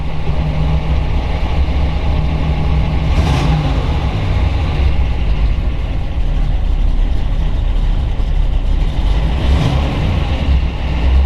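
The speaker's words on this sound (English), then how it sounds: "We're gonna go ahead and fire it up here. Starts instantly." A 1970 Chevrolet Camaro Z28 with a 350 V8 and four-speed runs loud and close after starting, a deep rumbling idle with a couple of brief revs standing out.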